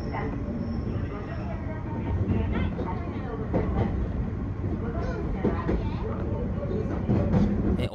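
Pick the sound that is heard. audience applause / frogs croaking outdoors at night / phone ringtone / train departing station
train departing station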